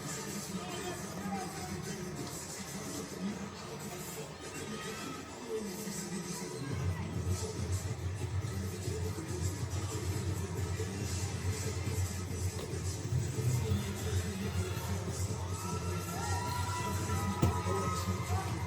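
A crowd at a cage fight in Bethlehem, Pennsylvania, cheers and shouts for a fighter, a steady roar of voices that swells and stays loud through the stretch.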